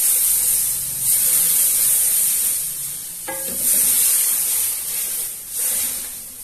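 A spoon stirs cold milk into a flour roux for white sauce in a pan, giving a steady wet scraping and hissing texture throughout, close and fairly loud, with a brief clink partway through.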